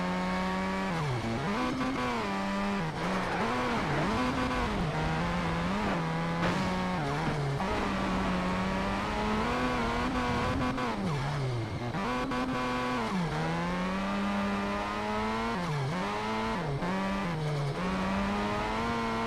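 A race car in Need for Speed: Shift 2 Unleashed, racing through Ebisu, whose engine note climbs and drops continuously with gear changes and revving, loud and close, with no talk.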